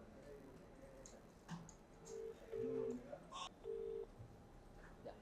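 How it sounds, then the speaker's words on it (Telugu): An outgoing phone call rings out, with a few short, steady electronic ringback tones over a faint background. "ఫోన్ రింగ్ అవుతుంది"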